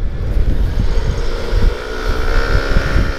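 A Yamaha NMAX scooter engine idles while warming up, a steady close low rumble with a faint pulsing beat and wind buffeting the microphone.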